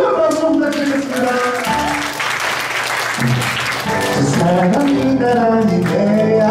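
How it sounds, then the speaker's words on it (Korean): Audience applause fills a wedding hall during a musical wedding march, a dense steady patter of many hands running throughout, mixed with music and voices. "다시 한번 큰 박수 부탁드리겠습니다"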